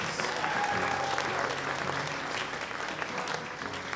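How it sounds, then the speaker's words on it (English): An audience at a small live music venue claps loudly and continuously, a thick, even wash of applause with a few faint voices mixed in. "Can you clap for her again?"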